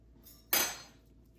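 A knife cuts through room-temperature butter on a surface, ending in one short clack of blade on board that fades quickly, quiet and close.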